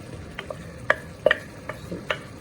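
Ground mint paste is added to chicken frying in a pan and stirred in, giving a few scattered scraping clicks of the spoon over a faint sizzle.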